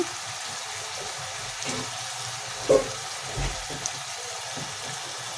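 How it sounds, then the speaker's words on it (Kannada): Eggplant pieces frying on high flame for vangi bath give a steady, moderate sizzle with a few soft stirring bumps, and no one speaks. "ಬದನೆಕಾಯಿ ಎಲ್ಲ ಚೆನ್ನಾಗಿ ಫ್ರೈ ಆಗಿದೆ"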